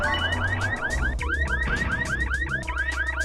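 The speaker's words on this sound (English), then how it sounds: "Is that just a generic car alarm sound effect?" Generic car alarm sound effect in the Bomberman Hero video game: a loud, continuous electronic whoop that repeatedly sweeps upward in pitch, cycling rapidly over a low rumbling game backdrop.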